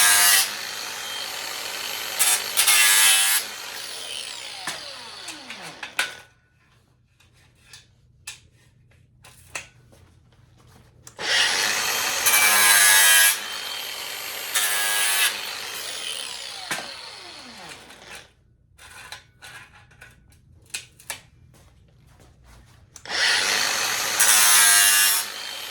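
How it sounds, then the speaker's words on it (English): Metal dice have their edges ground in three loud, harsh bursts of several seconds each, separated by quiet pauses with faint workshop background and no talking. "I'm just grinding the"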